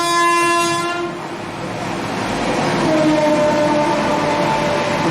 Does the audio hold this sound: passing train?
yes